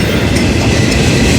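A freight train rolls past on the rails close by, loud and steady, with a continuous rumble and rail noise and no voices.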